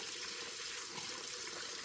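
Hot tap water running into a sink while hard shaving soap soaks, a steady close hiss of flowing water with no talk.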